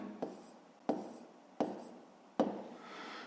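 Pen or pencil writing down a maths answer, four distinct scratchy strokes, each starting with a tap and then fading, quiet and close with no voice.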